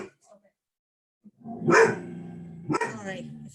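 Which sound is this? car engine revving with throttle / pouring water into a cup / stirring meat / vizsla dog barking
vizsla dog barking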